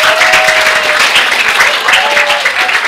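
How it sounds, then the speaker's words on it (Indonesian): Students in a school hall at MAN 22 Jakarta break into loud, dense clapping that fills the room for a few seconds, with faint voices mixed into the applause. "aplaus untuk cerita ini."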